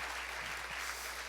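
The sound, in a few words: church congregation applauding the pastor's wife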